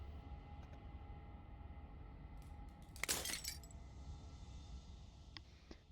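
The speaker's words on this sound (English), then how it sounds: "As the final fragment of glass shatters" A single glass shattering crash in the Slay the Princess video game bursts out sharply after a quiet, humming stretch, with a few faint tinkling fragments trailing off afterward.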